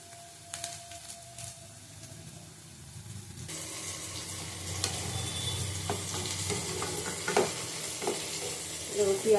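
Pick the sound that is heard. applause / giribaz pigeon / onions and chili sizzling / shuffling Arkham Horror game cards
onions and chili sizzling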